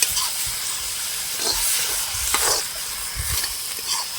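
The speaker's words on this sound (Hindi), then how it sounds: "तो अब मसाले और हरे साग को भी अच्छे से मिक्स कर लेंगे और 3-4 मिनट तक अच्छे से भून लेंगे कढ़ाई में।" Green mountain saag with ground spices sizzles loudly in a kadhai while being stirred, a continuous frying hiss with soft scraping and stirring knocks throughout.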